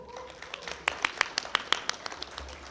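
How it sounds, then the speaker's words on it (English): Sparse, distinct handclaps ring out for a wedding party at a church wedding ceremony in Mangalore, a handful of sharp claps in an uneven rhythm, fairly close and scattered rather than a full ovation. "So a round of applause for them."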